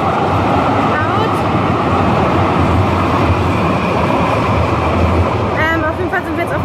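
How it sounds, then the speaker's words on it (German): A tram rolls past close by on a city street next to a bike path, a loud, steady rumble with faint rail squeals and a voice near the end. "Straßenbahn."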